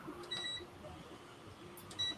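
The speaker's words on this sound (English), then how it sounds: "It sounds like it's beeping." A food dehydrator gives two short high electronic beeps, about a second and a half apart, over a faint steady hum in a quiet room.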